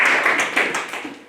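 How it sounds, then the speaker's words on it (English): A church homegroup congregation claps their hands in quick, rhythmic beats during a worship service, briefly and at moderate loudness, fading toward the end. "can we clap our hands to God for the word of the Lord?"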